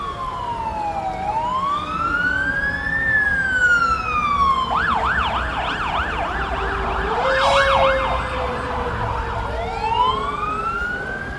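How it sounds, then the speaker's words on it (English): Fire truck driving past with its siren wailing, the tone sweeping up and down, then switching to a rapid yelp before returning to a slow wail, loud and close throughout with road noise beneath and no talk. "as soon as this fire truck goes by, I'll finish that story"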